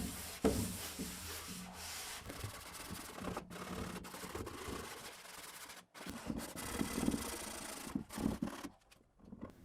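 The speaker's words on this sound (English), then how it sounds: "used mineral spirits to clean up the stripper residue and also tried scrubbing to see if I could remove more" Paint and stripper residue being scrubbed off a wooden chest of drawers with mineral spirits: quiet, irregular rubbing strokes broken by short pauses, close by.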